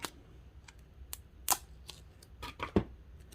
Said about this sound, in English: I'm going to use some duct tape on here. Let's cut a little piece of that.